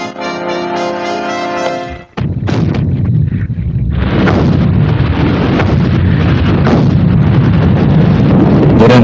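British artillery bombarding German trenches in a First World War barrage: a heavy boom after a musical passage cuts off, then a sustained roaring rumble of continuous shelling with repeated dull blasts, loud and dense.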